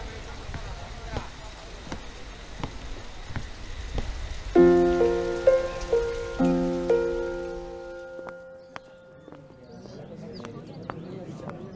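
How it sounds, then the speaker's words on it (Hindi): Steady rain patters on a surface through a Hindi film scene, with people talking over it and a sustained musical tone entering partway through. "बारिश हो रही है"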